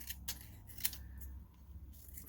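Scissors snip through paper during a quilting ephemera craft session, a few quick separate cuts close by with quiet pauses in between.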